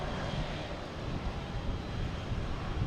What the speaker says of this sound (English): We have JetBlue coming in from Cleveland.